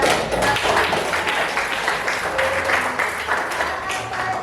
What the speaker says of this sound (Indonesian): kita beri aplaus kepada